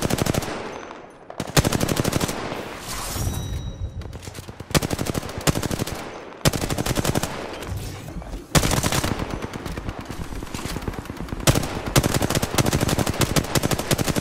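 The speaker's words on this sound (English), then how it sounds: "Reloading. Shooting." Rapid automatic gunfire from the Apex Legends video game, loud and close, with long sustained bursts broken by short pauses, several separate volleys across the stretch.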